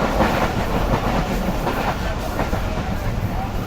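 Karakoram Express passenger train running at speed on the high-speed section through open desert country, a steady dense rumble of wheels and carriage noise with faint rhythmic clatter, continuous and close throughout.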